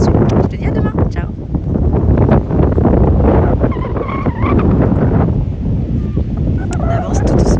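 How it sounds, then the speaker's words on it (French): Strong outdoor wind buffets the microphone near a horse field with a loud, continuous rumbling roar, and a person talks underneath it throughout. "je pense qu'il y a beaucoup de vent et que tu m'entends pas"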